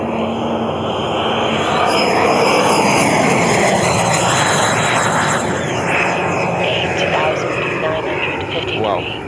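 An Odyssey JETFAN-130 PRO electric ducted fan model jet of about 14.5 kg at takeoff, on a 12 kW 16S drive, screams overhead with a loud, continuous whine and rushing roar that shifts in pitch as it passes.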